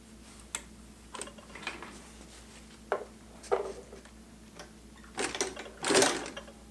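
A sewing machine stitches through thick leather for a knife roll and struggles until the needle bends. Short, uneven bursts of stitching alternate with pauses, ending in a louder final run.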